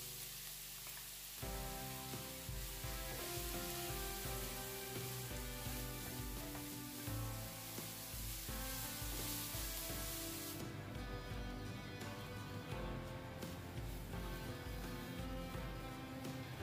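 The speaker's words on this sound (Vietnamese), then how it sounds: "Cho lần lượt sả, hành tím, tỏi băm vào phi vàng thơm." Lemongrass, shallots and minced garlic frying in hot oil in a pan, a loud steady sizzle that jumps up sharply as they go in, with scraping and stirring, then continues bright and crackling.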